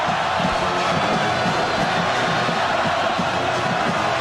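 Dense, loud stadium crowd roar at a Florida Gators college football home game against the USF Bulls, a steady wall of noise from the stands with no break across the whole stretch.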